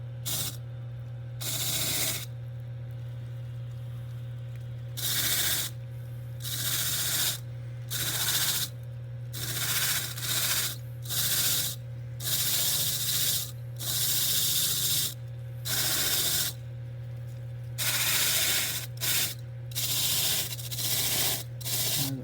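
A wire wheel brushes the ears during a grooming step, hitting both ways where the muscle comes down; loud bursts of abrasive whirring repeat in an irregular rhythm over a steady motor hum, with no talk.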